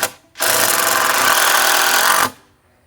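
A cordless drill or impact driver runs in one steady burst of nearly two seconds, loud and close, while screws are driven during construction of a lean-to shed.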